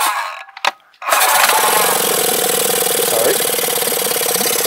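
Yamaha F25 EFI four-stroke outboard engine fires up after a brief pull, then settles into a loud, steady idle with a dense mechanical rattle, close by; a voice speaks briefly before it starts.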